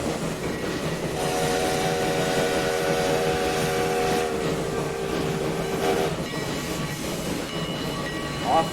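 Coal train running in the Transport Fever 2 railway game: a steady rolling rumble with a sustained horn-like tone for several seconds, continuous and fairly loud, with no talk over it.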